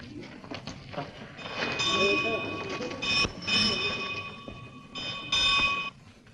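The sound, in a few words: train at a railway station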